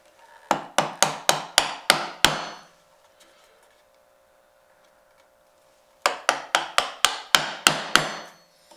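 A mallet strikes a chisel cutting a wooden dovetail in two bursts of about seven sharp, evenly spaced knocks each, separated by a few seconds of near silence.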